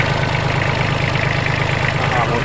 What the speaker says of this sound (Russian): Дизельный, простой трехцилиндровый двигатель. Тарахтит ровно